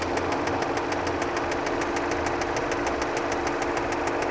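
An Audi engine idles steadily with a rapid, regular ticking knock repeating about five times a second over a continuous mid-pitched hum, close and alone.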